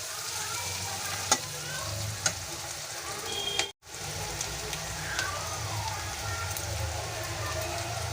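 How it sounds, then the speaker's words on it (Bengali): Spices with coriander powder fry for chola in a hot pan, a close, steady crackling sizzle with light stirring clicks and a brief dropout midway. "একটু ভেজে নেব।"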